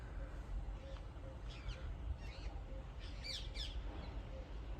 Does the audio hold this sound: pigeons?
yes